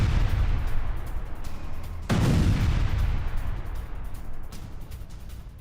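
A rocket strike on a house in a Beirut residential area, caught on a security camera: a sudden loud explosion and a rumbling roar that slowly fades over steady background noise.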